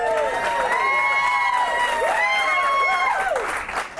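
A live audience at a concert-hall interview cheers and applauds loudly, with high whoops and shouts over dense clapping that continues for several seconds before starting to fade.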